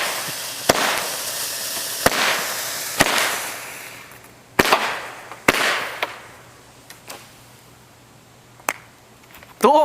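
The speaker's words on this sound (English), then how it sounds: "And a little firecracker." Small firecrackers and fireworks go off outdoors in a string of sharp, loud bangs and pops spread unevenly over several seconds, each trailing into crackling and hiss, with no voices.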